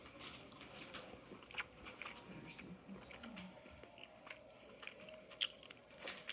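Close, crisp crunching and biting on chunks of sauteed chicken of the woods mushrooms, a little overcooked and oily, in uneven bursts over about six seconds with soft background noise.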